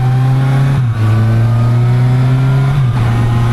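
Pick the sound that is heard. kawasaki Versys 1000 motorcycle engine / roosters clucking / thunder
kawasaki Versys 1000 motorcycle engine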